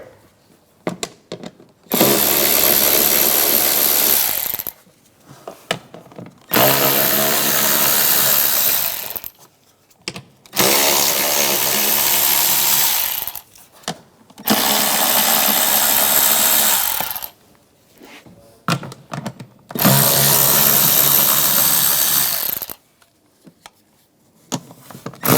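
A power tool spins an 8mm socket to remove engine cover bolts on a 2008-2013 BMW 328i xDrive, sounding in five separate bursts of a few seconds each with short pauses between, close and loud.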